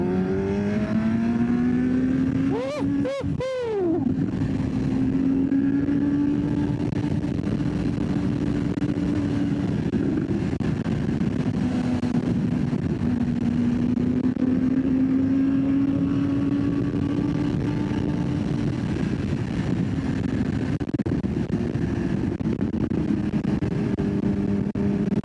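A motorcycle ridden along a road, its engine droning steadily and loud throughout with a brief rev swell early on, no talking.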